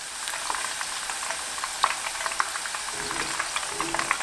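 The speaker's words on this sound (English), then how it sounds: "But I'd rather fry them." Brussels sprouts frying in oil, a dense steady crackling sizzle with scattered sharp pops and light spoon taps, close and alone.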